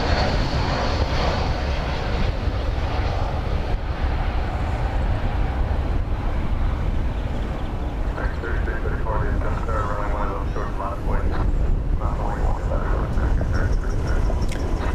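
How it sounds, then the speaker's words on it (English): An Airbus A321, Flight 1601 from Cancun, Mexico, arrives at Dallas Fort Worth airport, its jet roar loud, broad and unbroken across the whole stretch. "It's an Airbus A321 coming in from Cancun"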